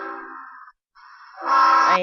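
A Norfolk Southern freight train hauling army equipment sounds its horn in two loud, close blasts, a shorter one followed by a brief gap and then a longer, stronger chord.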